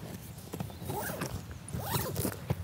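Zippers rasp on carp fishing kit bags loaded onto a Sonik SK-TEK rod transporter, several quick close zip pulls in a row at low volume.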